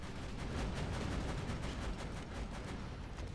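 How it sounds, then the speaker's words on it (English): Borderlands 2 combat produces a dense, continuous barrage of explosions and gunfire, a steady rumbling roar at moderate volume with no speech over it. "So many explosions."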